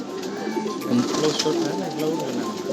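Pigeons coo steadily in a loft or rooftop setting where many birds are flying, overlapping throaty calls close by and fairly loud over background noise.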